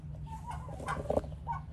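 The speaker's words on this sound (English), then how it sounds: "bigger chicken yard where we have Rhode Island Reds, Rhode Island Whites, and Barred Rocks" Rhode Island Red, Rhode Island White and Barred Rock chickens in a small backyard chicken yard give soft, scattered clucks and murmurs over a low background hum.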